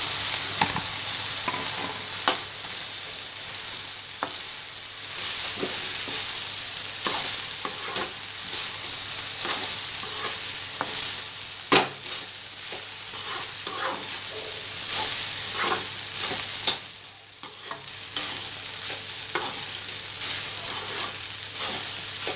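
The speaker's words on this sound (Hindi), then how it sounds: "मसाला हमारा अच्छे से मिक्स हो चुका है। अब हम इसमें चावल डालेंगे।" Rice stirred and fried with masala in a pan, a long steady sizzle broken by regular scrapes and occasional sharp knocks of a spoon against the pan, close by and without speech.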